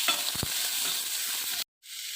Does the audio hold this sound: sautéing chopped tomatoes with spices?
yes